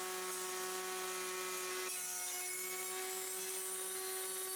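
A router makes a second pass across a rustic wooden tabletop, flattening the surface with a steady high whine and rough grinding hum, loud and close, shifting slightly in pitch midway.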